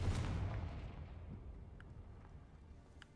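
A Confringo fire spell exploding in the video game Hogwarts Legacy, a loud booming burst at the start that rumbles and slowly fades, with a few faint crackles in the tail.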